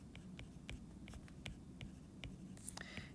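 Pen or pencil strokes on paper while writing out a fraction during an algebra problem on circles, a steady series of soft, short scratches at a quiet, close level.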